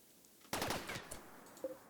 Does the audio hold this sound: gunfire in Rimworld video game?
yes